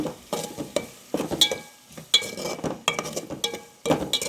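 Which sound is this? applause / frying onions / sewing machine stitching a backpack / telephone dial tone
frying onions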